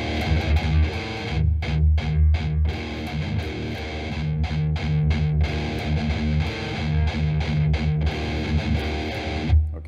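Heavily distorted electric guitar slowly picking the main riff of a song, a repeating pattern of chugging low notes and ringing higher notes, loud, close and unaccompanied.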